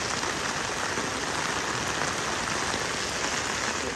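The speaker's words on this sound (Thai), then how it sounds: "นี่เป็นฝนตกเด้อครับ อุบลตกหนักตกคักตกแน่ครับ" Heavy rain pours down in Warin Chamrap, Ubon Ratchathani, Thailand, during flooding near a Makro store: a dense, loud, unbroken hiss of drops hitting surfaces, steady throughout with no voices.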